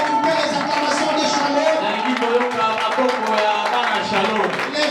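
Church congregation clapping and cheering during a Sunday worship service, a steady wash of hand claps mixed with crowd voices, sustained throughout at a fairly loud level.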